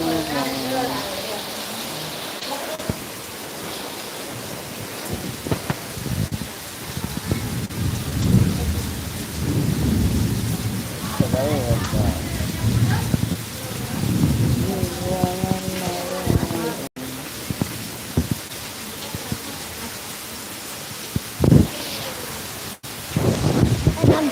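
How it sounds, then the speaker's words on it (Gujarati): Steady rain with rumbling thunder, a broadband wash running throughout with louder rolls near the middle, while voices and some talk come and go over the storm. "વરસાદ આવે વરસાદ જો"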